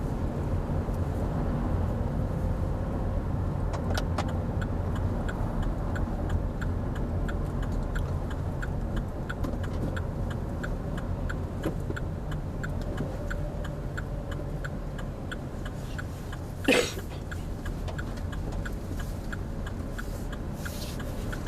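Car driving round a bend, a steady low engine and road rumble throughout with faint regular ticking, likely an indicator, and one brief louder noise near the end; no talk.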